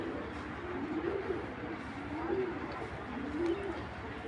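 A large female white tracer racing pigeon coos softly nearby: three low, rolling coos spaced about a second apart against faint background noise.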